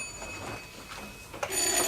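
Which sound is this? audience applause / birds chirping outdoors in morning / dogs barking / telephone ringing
telephone ringing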